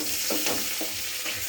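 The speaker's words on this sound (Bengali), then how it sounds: "পেঁয়াজটা একটু নাড়াচাড়া করে নিয়েছি" Onions sizzling in a pan of hot oil while being stirred, a dense steady frying hiss with soft rhythmic scrapes of the spoon, close and fairly loud.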